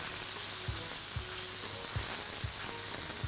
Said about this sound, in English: So that was the onion that's gone in now.